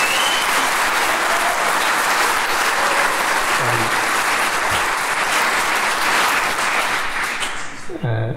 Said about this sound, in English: Give Bill a big round of applause